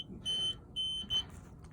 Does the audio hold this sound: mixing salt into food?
no